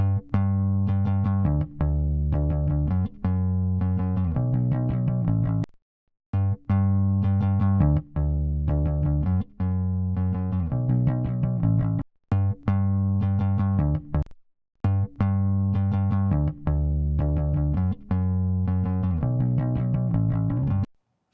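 A heavily compressed electric bass through an LA-2A optical compressor, playing a repeating line with even, flat loudness, pausing briefly between phrases.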